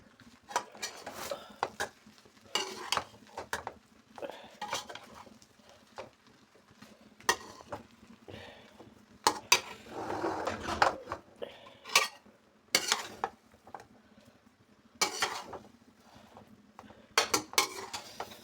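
A spoon clatters and scrapes inside an open cooking pot as Sindhi biryani is mixed at home, with irregular metallic knocks and stirring scrapes spread across the whole stretch, fairly close.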